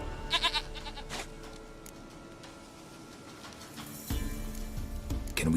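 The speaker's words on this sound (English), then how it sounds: "Goat of mine!" A goat in The Witcher 3: Wild Hunt, in the Velen region, gives a short cluster of bleats near the start, followed by quieter in-game ambience and a louder burst of game sound toward the end.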